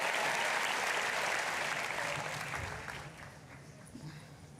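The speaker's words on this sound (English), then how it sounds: "Give yourself a round of applause." A TEDx audience in a hall applauds in a dense, sustained wash of clapping that stays full for a few seconds, then thins and fades toward the end.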